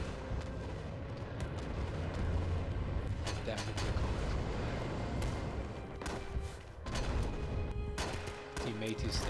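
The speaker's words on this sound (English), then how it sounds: "Incoming artillery." Artillery fire in the World War II shooter Rising Storm: deep, rumbling booms and distant gunfire rolling through a busy battlefield soundscape, with a few sharper blasts standing out from the steady din.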